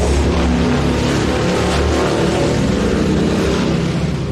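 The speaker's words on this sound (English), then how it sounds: "Yeah, it's a loud ass car." A loud car engine revs continuously, a thick rumbling roar that stays close and strong throughout, with no talking.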